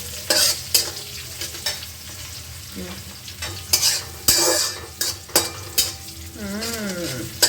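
Green chillies fry in hot oil in a pan, a loud continuous sizzle broken by repeated scrapes and clinks of a spoon stirring against the metal, with a brief faint voice near the end.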